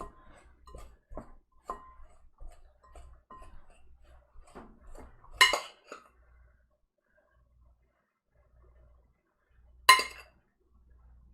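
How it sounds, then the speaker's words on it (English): A pastry cutter working butter into flour and sugar in a bowl for a sour cream rhubarb coffee cake, soft irregular thuds and scrapes, then two sharp metallic clinks against the bowl, close, quiet between strokes, no speech. "Pastry cutter makes this super fast, and you just want it to be kind of crumbly."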